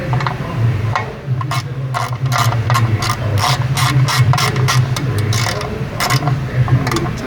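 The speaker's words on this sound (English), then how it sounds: "get my ratchet in there and go the rest of the way." Ratchet tightening the oil drain plug with its crush washer during an oil change on a 2013–2020 Mazda 3, 6 or CX-5 with a 2.0L or 2.5L engine, a fast run of loud close clicking over a steady hum.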